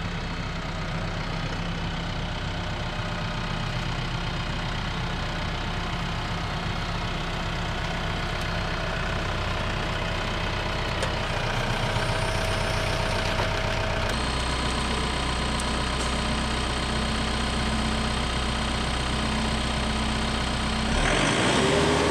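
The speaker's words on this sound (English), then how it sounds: "jump in the tractor, start moving some stuff around" A TYM tractor engine runs steadily at a low idle for the whole stretch, a constant close drone with a slight shift in tone partway through and no talk.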